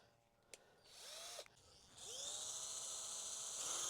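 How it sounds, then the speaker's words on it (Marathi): A power drill bores holes in a pipe for drip irrigation in a maize field, spinning up in short whining bursts, then running in a steady high-pitched whir, with a couple of sharp clicks near the start. "आता आम्ही पाडणार आहे ड्रिलनं भोसकं छिद्र"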